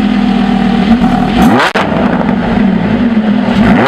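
Lamborghini Huracan LP610-4 supercar engine starting with a brief cut, then a loud, steady, close-up roar and revving that fills the rest of the clip.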